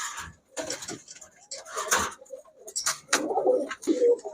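Giribaj pigeons coo in a pigeon shop, soft low murmuring calls rising toward the end, with people talking close by throughout.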